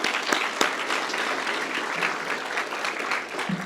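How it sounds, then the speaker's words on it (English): An audience at a paramedic course completion ceremony claps steadily for a few seconds, a dense crowd applause with a few sharper individual claps standing out. "Let's give them a round of applause."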